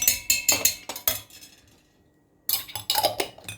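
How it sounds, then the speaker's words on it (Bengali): A spoon clinks and scrapes against a cup or jar while a spoonful of ghee goes into coffee, several quick metallic taps close by, then a pause of near silence before another burst of clinking. "আমি ঘি দিয়ে দিচ্ছি 1 চামচ।"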